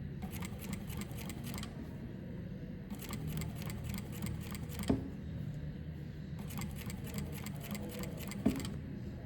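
A sewing machine stitching bias tape binding around a corner runs in three bursts of rapid, even needle clatter separated by brief pauses, close and moderately quiet, with no talking.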